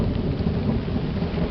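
Steady rain pours during a thunderstorm on a river float trip, a dense, even hiss with low rumbling thunder underneath, close and continuous with no talking.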